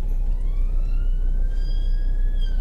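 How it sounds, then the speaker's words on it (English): A police siren wails with a rising tone over the rumble of a moving car on the road from Dover to Margate, sounding moderately distant. "Oh, I hear blue lights. Here it comes on the right."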